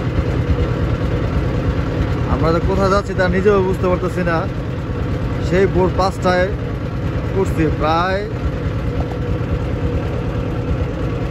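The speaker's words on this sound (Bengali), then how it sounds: "আমাদের ট্রলারটা চলতেছে।" A trawler engine drones steadily on a branch of the Meghna river, a constant low throbbing hum running through the whole stretch while someone talks over it.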